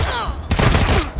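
Gunfire in the turn-based RPG video game Wasteland 3, a sharp burst of shots starting about halfway through and ringing out loud and close, with no talk over it.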